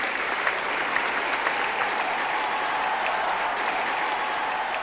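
A welcoming crowd greets Charles de Gaulle's arrival in Free French Africa with steady, dense applause that holds at an even level throughout, many hands clapping together with no pauses or individual voices standing out.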